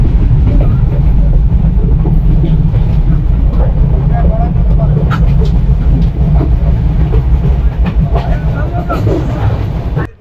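A Sundarban Express train rumbles along after leaving Rajbari, a loud continuous low roar of wheels and carriage with faint rattles and clicks throughout, heard from inside the moving train.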